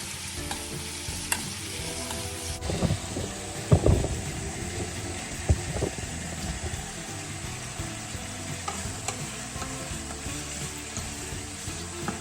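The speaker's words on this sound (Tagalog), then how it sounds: "So I need to simmer it until the sugar is thick on the chicken feet and the gizzard." Chicken feet and gizzard adobo with brown sugar simmers and sizzles in a pan, a steady bubbling hiss broken by a few louder stirring scrapes early on.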